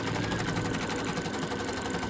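A home embroidery machine stitches the outline of a bunny treat holder design with a needle overdue for replacement, producing a steady, dense, fast mechanical whirring and clatter that runs continuously and fairly close.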